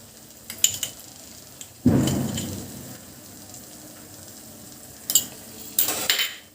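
Carrot halwa being stirred with ghee in a pan: scraping and sizzling bursts, a strong one near the two-second mark and more near the end, with quiet gaps between.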